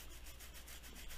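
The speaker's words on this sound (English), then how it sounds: "She's picking on me for scratching my beard." Beard being scratched, a steady, close dry rubbing and rasping with a soft repeating stroke rhythm, fairly quiet and continuous with no talking over it.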